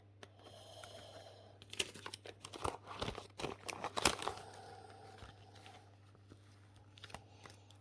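Paper and banknotes crinkle and rustle close up as cash is slipped into a paper budget envelope, with a cluster of sharp crackles and taps in the middle over a steady low hum.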